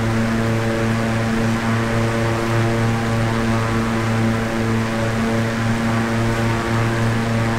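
Steady, droning engine and propeller hum of an airplane flying in Microsoft Flight Simulator during a gate-racing pylon course, loud and continuous with no talk.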